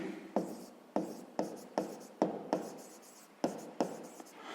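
Pen strokes on paper while a sixth-grade maths exercise is written out, a series of about eight distinct scratchy strokes in an uneven rhythm, close and fairly quiet, with no talking.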